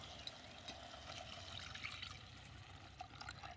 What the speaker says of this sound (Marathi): आता यामध्ये आपण पाणी टाकून घेऊया.